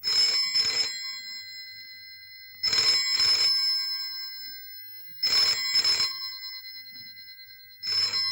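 A telephone rings in three double bursts spaced a few seconds apart, bright and trilling, with quiet gaps in between and no talking.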